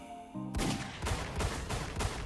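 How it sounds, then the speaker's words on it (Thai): Gunshot sound effect in a Thai audio drama, heard as a loud burst with several sharp reports in quick succession after a brief quiet lead-in, fired from the far end of a village. "เสียงปืนดังมาจากท้ายหมู่บ้าน"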